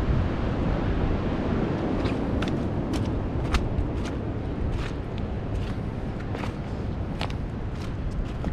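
Wind whipping outdoors during a wind storm, a constant loud rushing buffet against the microphone with scattered sharp gusty pops and crackles throughout.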